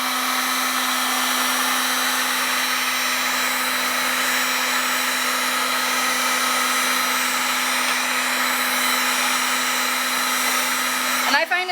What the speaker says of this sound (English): This is Harbor Freight heat gun. I usually come in with it on low